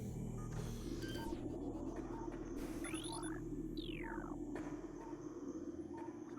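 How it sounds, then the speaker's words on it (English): A faint hum from power-up items in Metroid Prime Remastered, a low steady drone under quiet game music with rising and falling electronic sweeps and soft chimes. "I hear power-ups."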